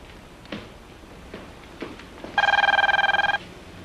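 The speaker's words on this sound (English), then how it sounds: "Answer the phone, George." A telephone rings once in a television show, a loud bright trilling ring lasting about a second after a few quiet thumps and movements.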